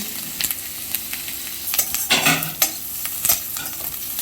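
Chopped onions, two large ones, fry in a wok with a light sizzle. Scrapes and stirs break in now and then, with a louder burst of frying in the middle.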